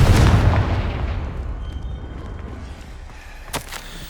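A Confringo fire spell detonates in the Hogwarts Legacy video game as a loud, deep boom that rolls into a long fading rumble, with a short sharp crack near the end.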